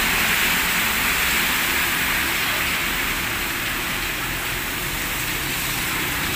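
Steady heavy rain during flooding hisses continuously, a dense even wash of noise with no pauses.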